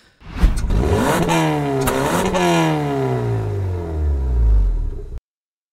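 A car engine revs hard in Gran Turismo, pitch climbing and dropping through several gear-like sweeps before cutting off abruptly into silence.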